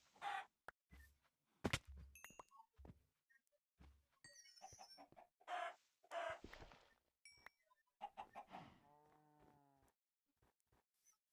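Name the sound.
chicken clucking in the video game Minecraft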